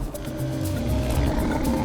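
A saber-toothed cat sound effect: a loud, sustained, close growling roar with rumbling low end, heard alone over a dense ambient backdrop.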